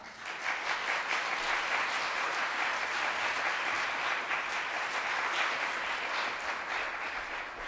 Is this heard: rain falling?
no